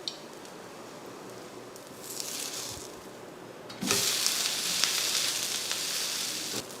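Oil is poured over an onion dosa on a hot pan. A quiet hiss swells into a loud, bright, steady sizzle partway through that keeps going to the end.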